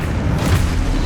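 A Confringo spell explodes in the Hogwarts Legacy video game, a short, loud, dense boom with heavy low rumble and no clear attack.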